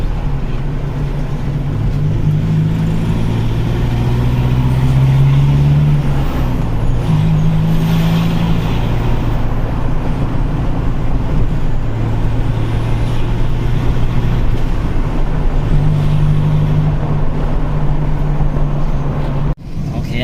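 Toyota Vigo pickup running an upgraded 3000 turbo engine, a steady low rumbling idle with slight revs rising and falling, loud and continuous throughout, with a brief drop near the end.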